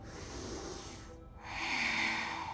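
A deep, steady inhalation taken during yoga boat pose, a broad breathy hiss that swells near the end and sounds close and fairly quiet, with no talking over it.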